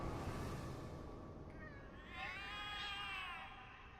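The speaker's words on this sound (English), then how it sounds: "The cats are alarming." Cats meow in alarm in the video game Cat Lady, rising wavering cries over a dense, noisy background, heard moderately loud.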